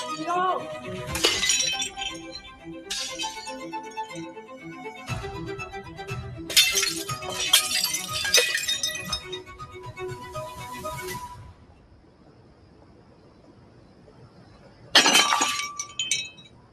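Glass smashed repeatedly inside a pawnshop, with several loud, close crashes and tinkling shards in bursts, a quiet pause, then one final smash, while people talk throughout.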